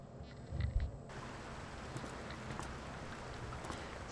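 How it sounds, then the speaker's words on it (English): Soft rain falls in the horror game Layers of Fear, a faint, diffuse patter with a few scattered drop ticks and a brief low thump near the start. "Sounds like it's raining."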